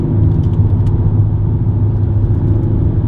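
A Mercedes-Benz AMG C 63 S braking and turning into a corner on a race track, its engine a steady, loud low rumble heard from inside the car, with no clear rev changes.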